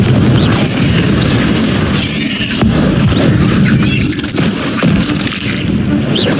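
Spell blasts in the Hogwarts Legacy video game, fire and disarming spells among them, boom and crash loudly and without a break through a dense, noisy combat mix.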